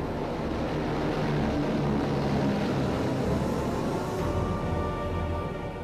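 A massed formation of World War II heavy bombers approaching Cologne, a dense, continuous propeller-engine drone that stays loud and steady throughout with no voices.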